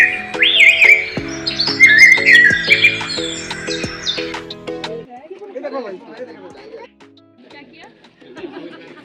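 Birds chirp and squawk in busy, overlapping calls at a zoo in Darjeeling, loud and close at first, then thinning to fainter scattered tweets.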